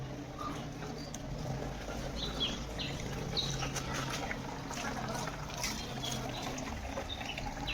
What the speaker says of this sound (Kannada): ಗಂಗೆ ನೀರು ಬರುತ್ತೆ ಹಸಿಂದ.